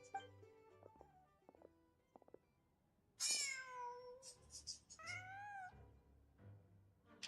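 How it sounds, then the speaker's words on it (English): A cat in Genshin Impact lets out several clear, rising meows at close range, the first long and loud, followed by shorter calls over soft ambient game music. "Just a cat."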